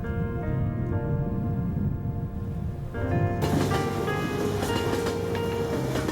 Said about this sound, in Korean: 1898년에 생긴 스위스 최초의 톱니바퀴 열차는 느긋하게 산을 밟아